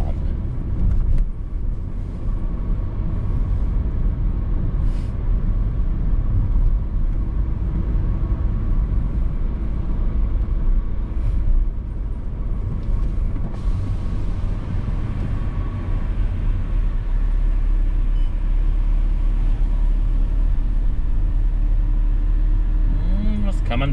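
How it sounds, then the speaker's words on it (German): A car engine runs steadily during a driving test, giving a continuous low rumble of engine and road noise from inside the cabin with only small changes in level as the car drives at normal speed. "Ein bisschen Gas geben, also ruhig, zügig, ganz normal fahren."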